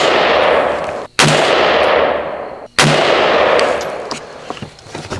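Two loud, close gunshots from a Brownells BRN-15 AR-15 with an 11.5-inch barrel, fired outdoors about a second and a half apart, each a sharp crack followed by a long, fading echo.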